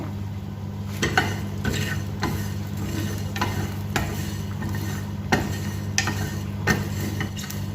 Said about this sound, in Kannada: ಸ್ವಲ್ಪ ಓಮ ಸ್ವಲ್ಪ ದಾಸಿವೆ ಸ್ವಲ್ಪ ಸಾಸಿವೆ ಹಾಕಿ ಉರ್ಕೋಬೇಕು